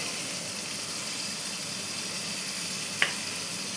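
Vegetables frying in a pan for Bengali shukto give a steady, even sizzling hiss, with a single brief clink near the end.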